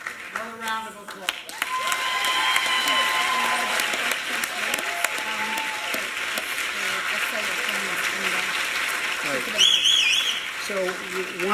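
Audience applause for a first place winner at a Martin Luther King Jr. and Black History Month celebration, sustained and fairly loud across the whole stretch after a brief opening of voice, with a few whoops and whistles mixed in.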